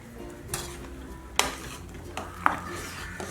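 A spoon clinking and scraping against a pan while ground pistachio is stirred into a sweet mixture, a few sharp metallic taps over a low background with no talk.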